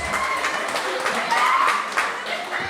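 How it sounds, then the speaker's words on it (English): An audience at an Africa Day event applauds in a steady wash of clapping while a voice speaks over it. "Bravo, applaudissons."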